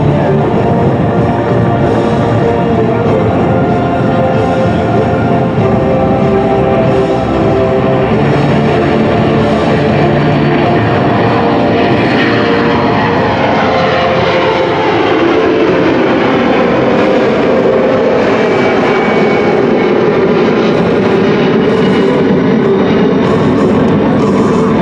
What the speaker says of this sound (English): The KC-135 now taxiing out on the runway.